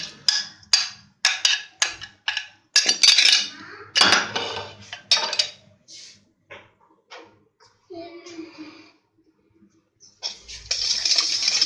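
Spoon stirring chaat masala and crushed red chilli into a yogurt dish for dahi phulkian, giving a run of sharp clinks and scrapes against the bowl, then a short pause and a softer burst of scraping at the end.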